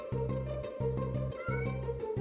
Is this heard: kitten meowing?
yes